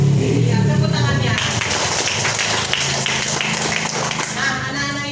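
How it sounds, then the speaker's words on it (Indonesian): Children in a classroom clap their hands together, a dense, loud burst of applause-like patter lasting several seconds, with voices mixed in underneath. "Iya, tepuk tangannya"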